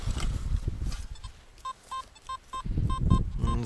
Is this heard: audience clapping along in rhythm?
no